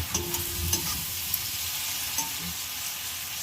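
Fried potatoes being stirred into cooked-down masala in a pan for a Bengali jackfruit and prawn curry: a steady close sizzle with soft spatula scrapes and clicks, no talking.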